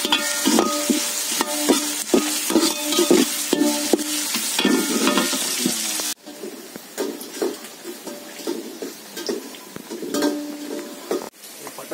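Onions for biryani stirred as they fry in a large pot, a loud steady sizzle broken by repeated scraping strokes of the spoon, continuing close and without talk.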